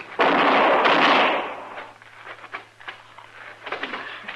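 A gunshot sound effect from a radio western drama: one loud, broad burst with a rolling tail that fades over about a second, followed by quieter scattered noises.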